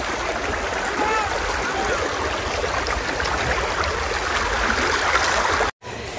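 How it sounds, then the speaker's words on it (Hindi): River water flows steadily in a continuous rushing stream, a broad wash of noise that cuts off abruptly near the end. "नदी का कितना एकदम अच्छा धार है पानी कितना मस्त बह रहा है"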